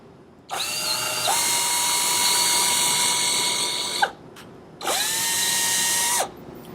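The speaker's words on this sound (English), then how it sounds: "Grab the drill to drill some pilot holes again." A power drill drilling pilot holes for a solitary bee house whirs in two bursts, a long high whine of about three and a half seconds, a short pause, then a shorter second run.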